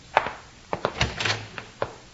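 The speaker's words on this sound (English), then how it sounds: "Open the door and see." Door being opened as a radio drama sound effect in a 1952 Western, a quick run of knocks, rattles and wooden thunks from a latch and handle, close and crisp.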